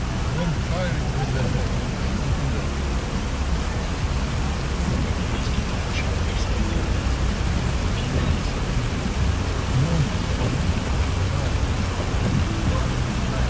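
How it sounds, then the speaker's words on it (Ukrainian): Heavy downpour over city streets in Zhytomyr during a flooding storm, a dense, steady roar of rain that fills the whole scene, loud and unbroken with no breaks. "Зливові дощі призвели до підтоплень прибудинкових територій та частини вулиць у Житомирі."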